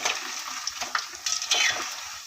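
Tea-shop style bonda fries crisply in hot oil, with a close, busy crackling sizzle and light stirring clinks throughout, and no voices.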